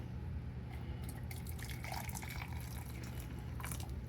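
Hot water poured into a teacup holding a tea packet, a steady splashing liquid pour running continuously and fairly quietly, with no talk.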